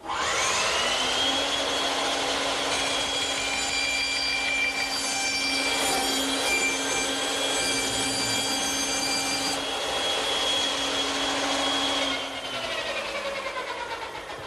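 Saw cutting a circle in a plywood blank pivoted on a radius pin, a loud, steady whine held for about twelve seconds before it eases off slightly near the end.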